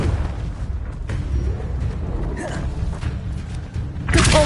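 A Confringo spell blast in Hogwarts Legacy: a loud, rumbling boom with creaking, crumbling debris, followed by a sharp burst of fiery crackle near the end.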